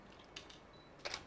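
A camera shutter clicks faintly in a quiet room, one soft click followed by a second, sharper click a moment later.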